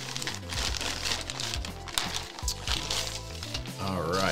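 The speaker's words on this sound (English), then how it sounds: "I just kind of cut through the top of the bag here" Plastic packaging bag crinkling loudly as a NETAFIM low volume drip irrigation control zone kit with valve, filter and pressure regulator is cut open and unboxed, continuous close rustling mixed with someone talking.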